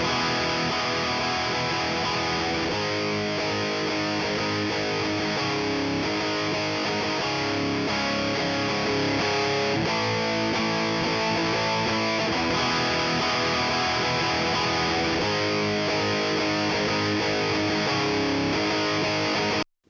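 Heavily distorted electric guitars play a dense, sustained riff through a Lindell Audio LiN76 compressor, loud and evenly compressed throughout with little change in level.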